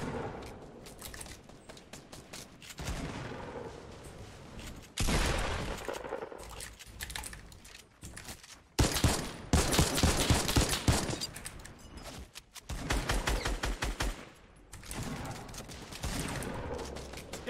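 An infantry rifle fires in a squad shooter game, with repeated bursts of rapid gunfire and dense fusillades. Short quieter gaps separate the bursts, and faint talk runs underneath.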